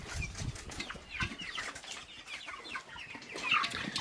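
A flock of about 150 meat chickens on a homestead clucks and chatters continuously, many birds close by with overlapping calls and a few rustles of movement.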